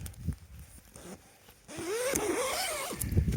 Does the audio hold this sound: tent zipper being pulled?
yes